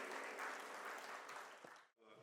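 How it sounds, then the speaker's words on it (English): Audience applause at a corporate printing and packaging industry event, dense steady clapping filling the room before cutting off abruptly near the end. "Round of applause."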